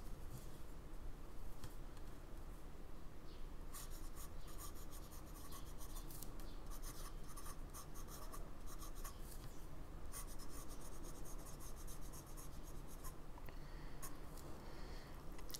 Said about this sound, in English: And yeah, let's give it a writing test.